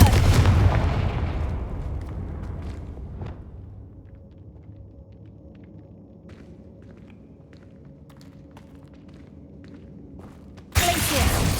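Confringo fire spell blasts in the Hogwarts Legacy video game: a loud booming burst at the start that fades into a low rumbling tail with faint scattered clicks, then another sudden loud burst near the end.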